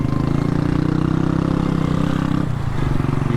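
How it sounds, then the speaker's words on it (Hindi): A motorcycle engine runs steadily on a busy Karachi street in the Clifton area, a loud, continuous mid-range drone with a slight shift in pitch near the end, heard up close without talk. "ये किस तरह की बाइक चला रहा था भाई।"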